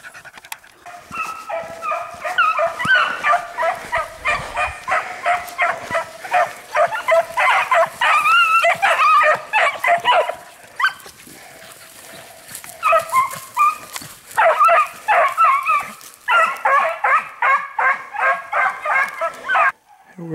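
Several dogs barking and yipping excitedly outdoors near a camp, rapid overlapping barks in loud bursts close by, with whimpers and panting between flurries and brief pauses.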